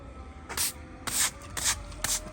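Four short hissing bursts of aerosol spray, evenly spaced over a couple of seconds, close by with a faint background hum.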